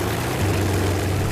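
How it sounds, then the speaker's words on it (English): A World War II Supermarine Spitfire's Rolls-Royce Merlin engine runs at an airfield, giving a loud, close, continuous propeller drone with a deep low-end throb and no voices. "the one thing that really stands out with the Spitfire above all other planes is, of course, the sound of the beautiful Merlin"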